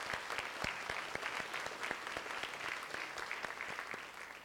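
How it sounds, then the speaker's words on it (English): Steady audience applause at a high school senior awards ceremony, many hands clapping densely and evenly throughout at moderate loudness, with no voices over it. "They deserve a round of applause."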